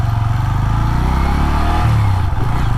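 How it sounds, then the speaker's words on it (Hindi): A Bajaj Pulsar N125 motorcycle rolls off after the throttle is released, its loud, close engine droning steadily and then dropping in pitch as it slows. "ये देखिए जैसे ही मैंने थ्रॉटल छोड़ा एकदम से 20 पे भी आ गया"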